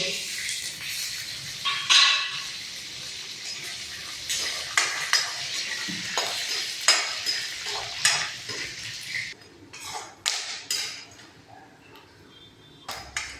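Raw peanuts crackling in hot white cooking oil with a steady sizzle, punctuated by scraping and clinking of a utensil against the pan.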